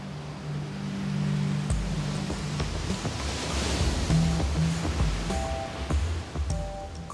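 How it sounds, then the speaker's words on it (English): Ocean waves washing over dark volcanic rocks in Cape Verde, a continuous broadband rush of surf that swells and recedes, heard up close with soft tonal music underneath and no talking. "Dark volcanic rocks exposed to the waves and currents."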